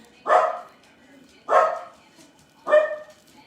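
Three loud dog barks spaced about a second apart, close by, with a quiet pause between each.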